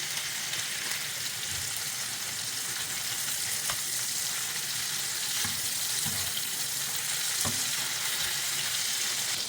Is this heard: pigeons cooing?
no